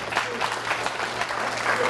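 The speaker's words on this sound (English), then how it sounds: "give yourself a round of applause" Audience applauding in a lecture hall, a steady hiss of many hands clapping at moderate loudness for a couple of seconds, with a faint voice beneath.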